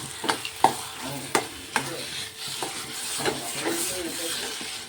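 Coconut chutney being stirred in a pan at home, a spoon scraping and tapping the metal in irregular knocks over a low steady sizzle, close and fairly quiet with no talk.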